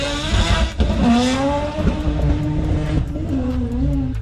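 A B20 VTEC-swapped Honda Civic makes a drag strip pass, its engine climbing through the revs in a loud, rising wail with gear changes breaking the pitch, over a faint chirp of the tires.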